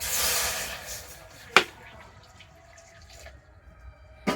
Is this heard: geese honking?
no